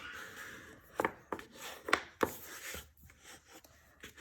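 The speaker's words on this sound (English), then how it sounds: "I'm going to go ahead and burnish that down so it's stuck." Paper card is burnished down by hand to stick it, producing soft, quiet rubbing and scraping strokes with a few sharper scratchy accents, close up in a quiet room.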